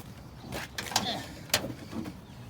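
The broken door of a 1995 Ford truck creaks and clunks as it is lifted and forced open, with a few sharp metallic knocks over about two seconds.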